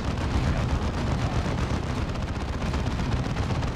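Dense, continuous gunfire and explosions from the Warhammer 40,000 Dawn of War II video game, a loud, unbroken barrage of battle noise throughout.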